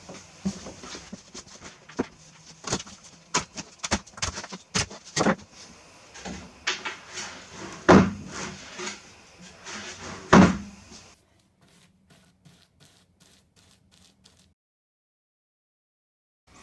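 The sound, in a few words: lid of built-in coffee table storage box opened and closed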